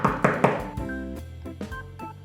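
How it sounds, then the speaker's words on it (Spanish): Three firm knocks on a wooden door in a children's wolf fairy tale, quick and close, followed by soft musical tones with no talk. "llamó a la puerta otra vez."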